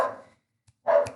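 A dog barks twice, short and moderately loud, with a brief silent gap between the two barks.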